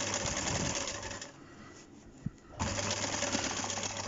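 A sewing machine stitches a sleeve onto a lining edge. Its dense, continuous whir runs, stops for about a second with a faint click, then starts again close by.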